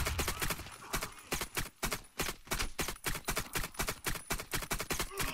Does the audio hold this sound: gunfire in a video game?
yes